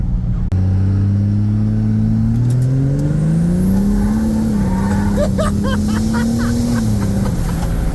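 A 1000 hp compound-turbo 6.7 Cummins second-gen short-bed truck launching, its deep diesel engine droning loud and close as the pitch climbs steadily through the run, with a hiss in the background.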